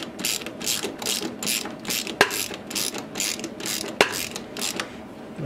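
Ratchet wrench tightening a 7/8 fitting on a Jeep TJ steering pump, a rhythmic series of clicking bursts at an even pace with two sharp clanks, close and fairly quiet.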